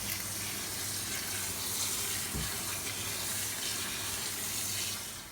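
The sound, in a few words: rinsing cooked beans under running tap water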